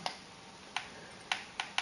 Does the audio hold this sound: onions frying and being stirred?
no